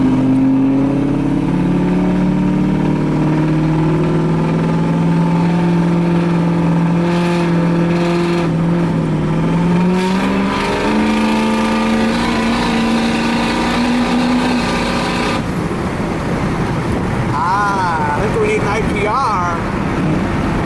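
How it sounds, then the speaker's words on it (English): "Six Oh" truck pulls hard on a highway, its engine droning loud and steady as the pitch slowly rises and shifts, heard from inside the cab with a voice talking over it. "Here comes a good highway pull."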